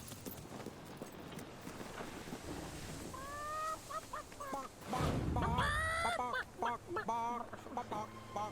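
Chickens cluck in Fable III: a few short, honking squawks in two loose bursts, clear over a steady ambient bed of game music and background noise.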